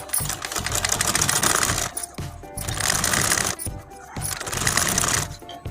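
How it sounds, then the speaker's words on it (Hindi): Sewing machine stitching a pillow cover: loud, close mechanical whirring in three sustained runs of rapid needle clatter, each broken by a brief pause. "एक तरफ से हम सिलाई लगाएंगे।"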